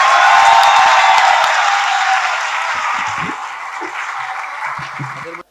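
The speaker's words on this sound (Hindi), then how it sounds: "आप इतनी तालियां बजाइए कि इनका आना सफल हो जाए" Loud, dense applause from a large audience at a poetry gathering welcoming the poet Ali Zaryoun, starting strong and gradually fading over several seconds before cutting off.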